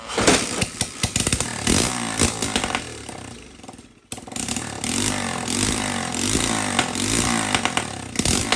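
A CT70 clone minibike engine needing carburetor work runs rough and buzzy up close, sputtering and dipping before cutting out briefly, then catching again and running unevenly.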